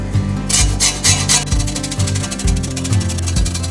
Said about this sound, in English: you take your zester, you take your lime, and you give it a haircut